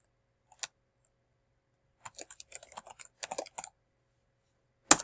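Short bursts of clicking keystrokes on a computer keyboard as a name is typed, quiet and close, in a few quick clusters with pauses between them and a sharper click at the end.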